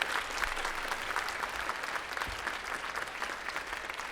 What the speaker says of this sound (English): Can we give another round of applause for Videri, please?